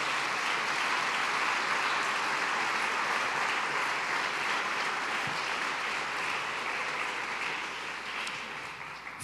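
A church congregation claps as an offering of praise, a dense, sustained wash of applause from many hands that holds steady and then eases slightly toward the end.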